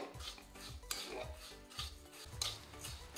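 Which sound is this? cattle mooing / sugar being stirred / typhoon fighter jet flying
sugar being stirred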